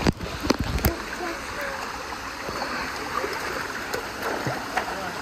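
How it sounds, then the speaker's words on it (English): A waterfall on a jungle trail in Manuel Antonio National Park, Costa Rica, gives a steady broad rush of falling water, with a few sharp knocks and footsteps near the start. "Made it to the first waterfall"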